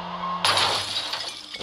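A car crashes in the Traffic Racer mobile driving game with a sudden loud glass-shattering burst that cuts off a steady engine hum and then fades as debris tinkles away.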